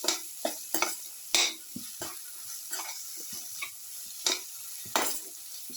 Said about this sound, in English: Put in salt to taste. Thoroughly mix.